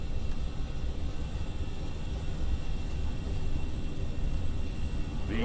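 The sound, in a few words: Austrian Airbus A319 engines at takeoff thrust, takeoff roll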